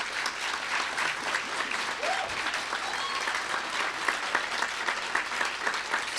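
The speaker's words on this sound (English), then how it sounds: "I think they deserve a round of applause for that." Sustained applause from an audience at a graduation ceremony, many hands clapping evenly at moderate volume throughout, with no clear voices standing out.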